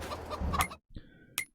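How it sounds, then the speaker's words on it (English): Chickens in a farm coop in Farming Simulator 22 give a few short game-audio clucks, with a busier burst followed by a brief gap and then a couple of softer clucks. "there's 100 chickens in there."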